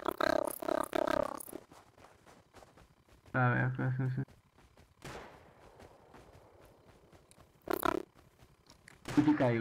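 Sharp bursts of gunfire in the video game Rust crack out between stretches of voices chatting, with a few scattered shots and a louder burst near the end.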